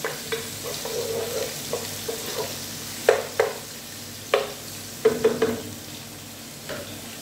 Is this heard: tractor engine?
no